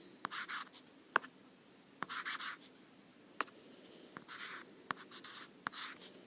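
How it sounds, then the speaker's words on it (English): Handwriting exponents with a pen or pencil on paper, soft scratchy strokes in short bursts with occasional sharp taps, quiet and close with no talk. "so I can just write that one down the way it is"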